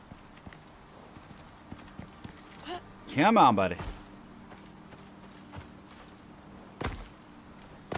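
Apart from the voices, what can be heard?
horse hooves clip-clopping in the video game Icarus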